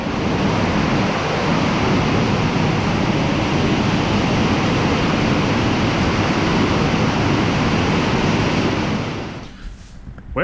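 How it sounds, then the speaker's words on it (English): Heavy rain pours down in a steady, dense roar close by, drowning out everything else for about nine seconds, then abruptly eases into near quiet with a few faint drips and rustles. "it was pouring buckets and you couldn't even hear yourself talk"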